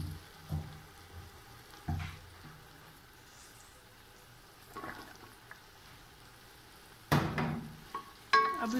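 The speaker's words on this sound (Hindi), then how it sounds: "अब इनको मिक्स करेंगे हल्के हाथों से ताकि जो हमारी भिंडियाँ हैं वो टूटे ना।" Okra and onions are stirred gently in a frying pan, with soft scraping strokes and a few louder clinks of the spoon against the pan spaced irregularly over a quiet, faint sizzle.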